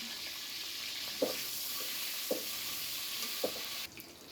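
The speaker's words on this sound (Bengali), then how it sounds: "কড়াইয়ে তেল দিচ্ছে এখন পেঁয়াজগুলো দিয়ে নিচ্ছে মাংসটা" Onions and meat fry in oil in a wok, giving a steady moderate sizzle broken by three evenly spaced stirring knocks, then a brief shift in tone at the end.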